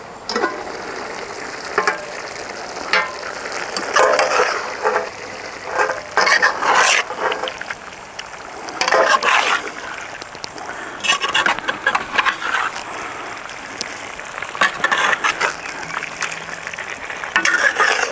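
Trinidadian stewed chicken cooking in a pot over a fire, with loud, close stirring and scraping against the pot, a steady sizzle underneath, and irregular bursts of activity throughout.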